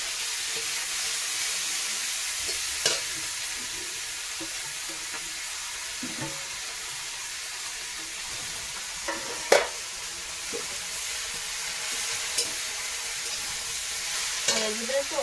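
Leafy greens fry with garlic, onion, salt and turmeric in a pan, giving a steady, moderate sizzle and hiss, with occasional sharp clinks and scrapes from a spatula stirring the pan.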